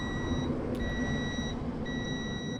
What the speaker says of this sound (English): it's a very busy road next to me.